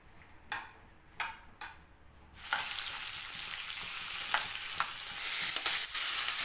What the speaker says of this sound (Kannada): ಈ ತೊಂಡೆಕಾಯಿ ಏನುಂಟಲ್ಲ ಒಳ್ಳೆ ಎಣ್ಣೆ ಹಾಕಿ ನಾನೀಗ ಫಸ್ಟಿಗೆ ಫ್ರೈ ಮಾಡೋದು